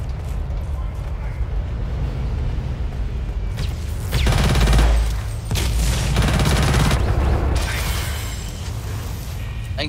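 Light machine gun fire in the shooter Blacklight: Tango Down, with loud sustained bursts of rapid shots and booming impacts building mid-clip while players talk over the action.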